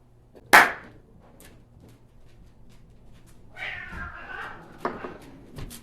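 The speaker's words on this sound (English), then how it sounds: "Cats fighting." Cats fighting: a sharp yowl bursts out near the start, then caterwauling and hissing cries rise and fall in short bursts.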